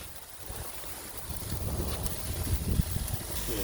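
Wind gusts blow steadily past an outdoor grill on a long-weekend cookout, a soft, constant rushing noise that swells slightly toward the end, with no voices.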